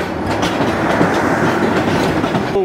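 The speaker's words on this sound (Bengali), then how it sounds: "রংপুরের ট্রেন কিন্তু ঢাকার ভিতরে ঢুকতেছে" A Rangpur passenger train rolls into Dhaka near the Airport railway station, its steady rumble and rhythmic wheel clatter loud and close throughout.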